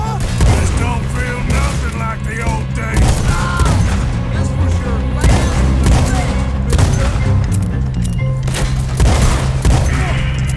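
Gunfire in the video game Red Dead Redemption 2 erupts as a rapid, loud fusillade of sharp shots and booms, dense and near throughout, with a voice speaking intermittently underneath.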